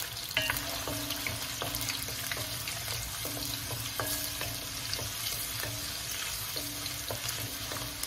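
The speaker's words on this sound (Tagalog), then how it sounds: "Nalagay ko po na po ang bawang." Garlic, a whole head of cloves, frying in a pan for sinigang sa miso, with a steady sizzle broken by stirring clatter and a faint repeating tonal beep in the background.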